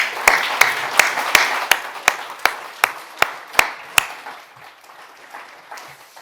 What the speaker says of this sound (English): if you could join me with a round of applause for the CEIC team